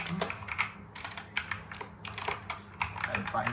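Rapid, close clicking of keys being typed on a computer keyboard, in quick irregular bursts with short pauses.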